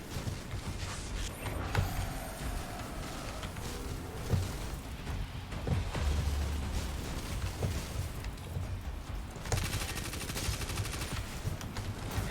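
Destiny 2 firefight with steady bursts of rapid gunfire, repeated shots and a few heavier bangs over a dense, noisy battle mix, without voices.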